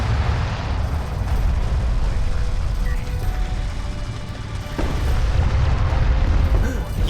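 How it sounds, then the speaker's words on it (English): In a Homeworld space battle a support cruiser is destroyed, and a loud, dense rumble of explosions and weapon fire runs throughout with a sharp crack midway, while people talk over it. "He killed a support cruiser."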